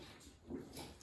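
A puppy plays with a squeaky pig toy, giving brief faint squeaks and whimper-like sounds at a distance in a quiet room.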